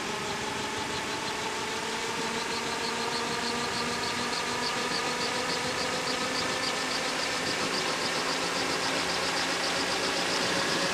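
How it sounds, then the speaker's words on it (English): A Magni M16 gyrocopter's engine runs steadily and loudly, a dense droning roar with a slight rise in power over the span, heard from the cockpit without talk. "Rotor stopped accelerating, increasing power."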